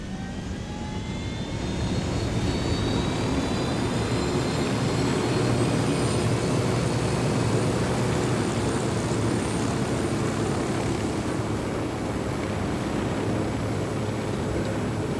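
Steady aircraft engine drone in the video game Ghost Recon Wildlands as the player pilots, a loud continuous roar with a rising whine that climbs over the first seconds and then holds evenly throughout.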